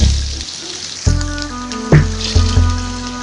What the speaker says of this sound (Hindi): अब हम तड़का लगाएंगे।